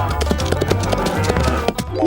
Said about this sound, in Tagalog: Ito ay isang kabayo na Clydesdale